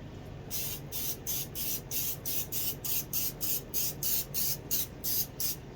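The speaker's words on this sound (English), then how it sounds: "So I'm just spraying these things down with" Short hissing bursts from a spray can of cooking oil repeat in a steady rhythm, about a dozen quick sprays close by.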